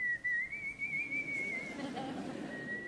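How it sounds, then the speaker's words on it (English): A person whistles one long, steady, tuneless note, clear and close, with faint background noise underneath. "It was very handy to have the whistle."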